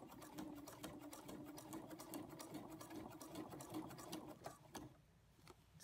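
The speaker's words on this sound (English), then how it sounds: "make sure the edge inside the channel is hitting the edge of the bias tape and just do a few more stitches" A sewing machine stitches bias tape with a rapid, steady mechanical whir and needle clatter up close, then slows and stops near the end with a few final stitches.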